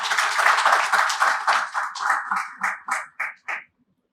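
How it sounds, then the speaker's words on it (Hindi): A university audience at a journalism talk with students applauds briskly, the clapping thinning to a few last scattered claps before it stops, with no speech. "आप सभी के लिए एक बार जोरदार तालियां हम सबकी तरफ।"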